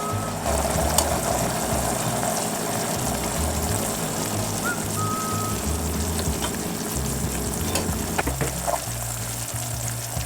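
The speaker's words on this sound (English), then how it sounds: "You'll really hear these bubbles pop up and out." Butter clarifying into ghee bubbles and sizzles in a pan, a steady close crackle with small pops scattered throughout and no talking.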